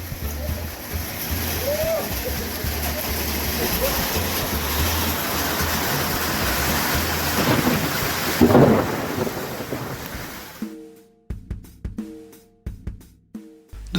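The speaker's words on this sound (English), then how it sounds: "it started raining and it continued through the night" Thunderstorm at Rhebok hut on the Golden Gate Rhebok Trail in the Free State, South Africa: steady heavy rain with a deep rolling thunder rumble that peaks near the end, then breaks into scattered drips and patters.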